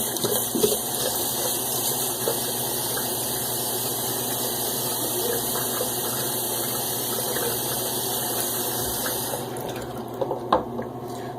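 Water runs steadily from a tap as a man wets his head before a head shave, a constant close rushing flow that eases near the end, followed by a few small knocks and splashes, with no talking.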